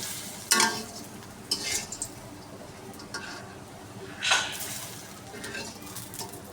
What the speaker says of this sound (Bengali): আর এই ডালের মধ্যে হচ্ছে সরিষা আর একটু রাঁধুনি ফোড়ন দিব।